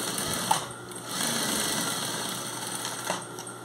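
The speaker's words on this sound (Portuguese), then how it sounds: "Costura simples, não vou fazer aquelas costuras na diagonal, não." A sewing machine runs in short bursts of stitching while joining square fabric patches for a homemade patchwork rug, its motor whirring steadily with a few sharp clicks, close and clear without any talk.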